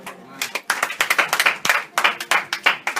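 A church congregation claps in an uneven, lively rhythm, dozens of sharp hand claps close by with no other sound.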